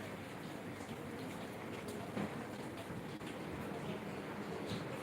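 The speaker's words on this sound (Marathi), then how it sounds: "मध्येच पाऊस येतो आहे मध्येच" Rain falling outside, a faint, steady patter of drops with occasional soft bumps close by and no clear talk.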